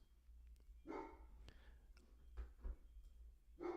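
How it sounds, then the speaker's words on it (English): A dog barks in a room, several short muffled barks spaced irregularly, fairly faint and distant against a quiet background. "I'm going to have to go yell at this dog one more time."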